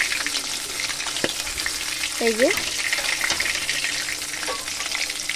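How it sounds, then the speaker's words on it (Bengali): Steady crackling sizzle of small tengra fish frying in oil runs throughout, with a few clinks of a utensil and a brief spoken remark partway through. "এইভাবে এক এক পিট করে ভেজে নেব"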